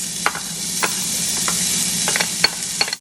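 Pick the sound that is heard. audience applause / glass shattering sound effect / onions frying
onions frying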